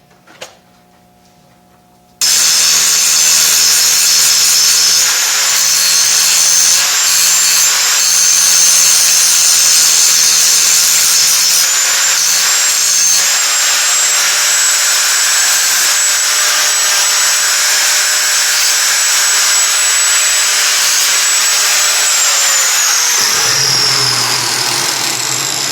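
Grinder prepping a weld on a minibike frame in the shop, a sustained loud high whine that starts abruptly after a quiet moment, holds steady for about twenty seconds, then winds down near the end.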